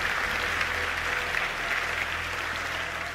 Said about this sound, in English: Big round of applause to him